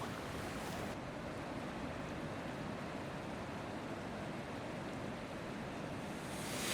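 Steady roar of waves and falling water at a beach, a broad continuous wash that swells slightly near the end, with no voices.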